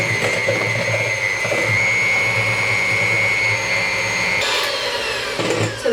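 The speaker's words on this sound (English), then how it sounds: "And then we whisk." Brownie mixture being whisked: a loud, steady mechanical whir with a high droning tone, the motor running continuously and shifting pitch near the end.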